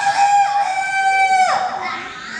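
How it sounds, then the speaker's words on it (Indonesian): A rooster crows once, a loud, close, drawn-out call with a rising start, long held middle and falling end, heard alone with no talk, near a home in Indonesia at dawn. "ada ayam berkokok langsung bangun."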